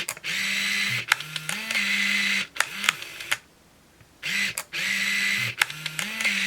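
An Olympus Infinity Accura Zoom XB 70 35mm film camera fires its shutter several times, each click followed by the whirring motorized film advance, loud and close with a brief quiet gap between bursts.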